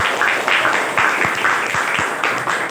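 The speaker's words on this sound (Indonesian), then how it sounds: "Tepuk tangan untuk teman-teman saya." A crowd of students and parents claps steadily for sixth-grade classmates at a school farewell ceremony, a dense, even wash of applause without talk.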